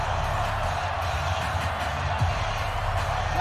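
A large crowd at Arrowhead during a high school football game between Bishop Gorman and IMG Academy gives a steady, dense roar throughout, with faint shouts mixed in.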